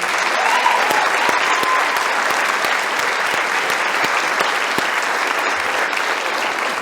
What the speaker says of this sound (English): that last round of applause was for the Bellows Falls community